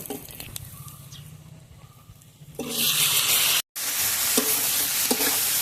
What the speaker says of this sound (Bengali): মাংসটা ভালোভাবে কষিয়ে নেব